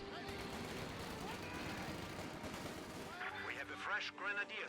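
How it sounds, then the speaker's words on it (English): Machine-gun fire in the World War II strategy game Company of Heroes 2, a dense, steady rattle of shots with distant battle noise, heard faintly beneath a commentator's continuous talk. "MG opening up more fire on the UC"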